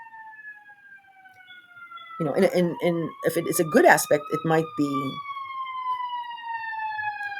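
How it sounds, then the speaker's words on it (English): An emergency vehicle siren wails steadily outside through the whole stretch, its pitch sliding slowly downward as it passes, while someone talks over it in the middle. "sorry about the siren"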